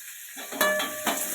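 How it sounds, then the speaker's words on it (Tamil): Beetroot chutney ingredients sauté in a pan, a soft sizzle rising after a quiet start, punctuated by two sharper stirring scrapes close by. "நல்லா போட்டு வதக்கிக்கலாம்."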